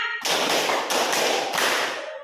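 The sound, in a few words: hands clapping in a counted classroom clap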